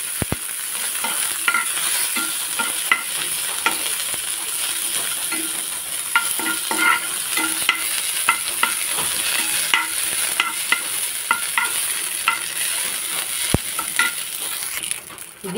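Chicken sukka frying in a pan with ginger and coriander leaves, a steady close sizzle running throughout while a spoon stirs and scrapes in repeated light clinks and taps.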